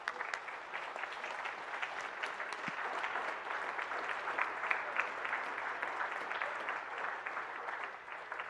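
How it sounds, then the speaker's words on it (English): Applause for the candidates at a Southern debate for a CD2 special election: sustained, even clapping from an audience, moderate in level and unbroken for the whole stretch, with no speech on top. "let's give all of our candidates one more hand of applause"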